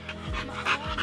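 An American Bulldog pants close by, giving several quick, rhythmic huffs in about a second.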